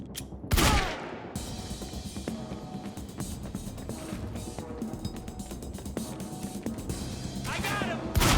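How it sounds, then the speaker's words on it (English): Sustained gunfire from a firefight in the video game Quantum Break, a dense, continuous rattle of shots with a few louder sharp bursts at the start and end, heard under game music and effects with no speech. "He's got a gun. Open fire. Keep shooting."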